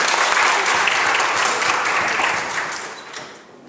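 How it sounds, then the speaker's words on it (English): A burst of applause from a large group fills a legislature chamber, sustained and loud before tapering off at the end. "give them a round of applause now"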